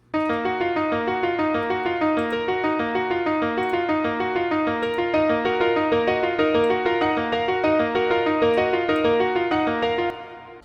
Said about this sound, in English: for our first sound, we got this piano from Nexus